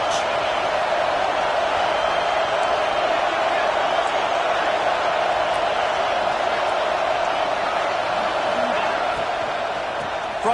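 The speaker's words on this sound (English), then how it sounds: "this crowd is turning it up a notch." Football stadium crowd roaring on second down, a dense, loud, continuous wash of cheering and noise that stays steady throughout with no pauses.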